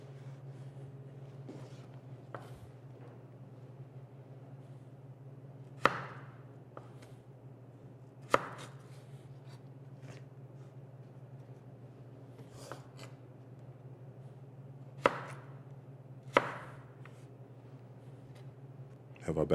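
Kitchen knife slicing vegetables into bâtonnet sticks on a cutting board, a handful of sharp isolated chops spaced several seconds apart over a steady low background hum.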